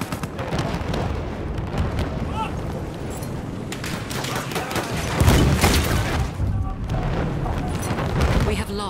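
Bomb explosions and gunfire in Battlefield 1 on the FAO Fortress map in Conquest mode: dense, rumbling booms and rattling shots pile up continuously, with a heavier blast about halfway through, and voices are heard beneath the battle.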